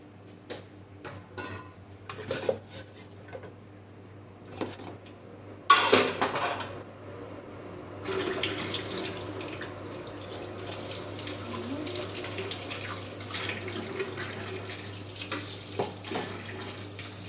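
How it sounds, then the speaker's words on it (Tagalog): Dishes being washed at a kitchen sink, with scattered clinks of plates and utensils at first, then a burst of running tap water and a steady stream of flowing water that continues to the end under a low background hum. "Ngayon po ay maghugas muna tayo ng plato"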